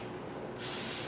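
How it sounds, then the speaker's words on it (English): A short burst of hairspray starts abruptly and hisses steadily at close range. "Spray."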